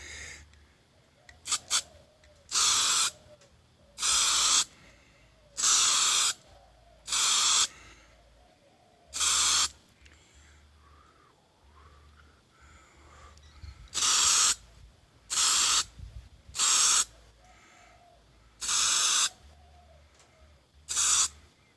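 An aerosol spray paint can coats a 0 gauge model locomotive, a DJH Thompson B1 kit, in a series of short loud hissing bursts about a second each, separated by quiet pauses, close up outdoors on a warm day.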